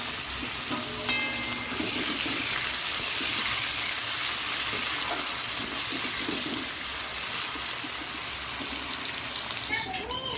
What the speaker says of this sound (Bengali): এই যে এটা ভাজা হয়ে যাচ্ছে